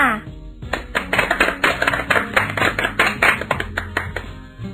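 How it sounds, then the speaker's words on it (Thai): A classroom of children claps in a burst of loud, fast, uneven applause that lasts several seconds, with some voices mixed in. "ปรบมือให้เพื่อนๆหน่อยจ้า"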